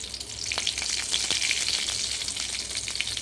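Mustard seeds and curry leaves sizzle hard in hot oil, a close, steady broadband crackle broken by sharp little pops and spits that lasts throughout, with no voices.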